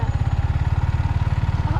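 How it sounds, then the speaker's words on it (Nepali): A Yamaha MT15 motorcycle engine runs loud and close in a steady, rapid pulsing throb, with no pauses across the stretch. "यो बाइकको क्या ठुलो आवाज छ यार"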